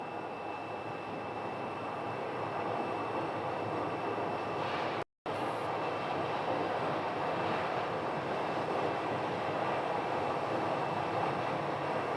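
Airplane engines at Sky Harbor airport, a steady broad roar and hum from aircraft near the gate, continuous and moderately distant, with one brief dropout partway through.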